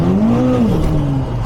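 A 620bhp Volkswagen Caddy van engine revs loudly close by, one short rising and falling rev with a strong droning whir.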